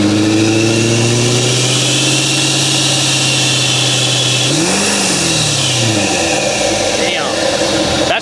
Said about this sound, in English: So we're gonna rev it up here so y'all guys can hear the pusher intake.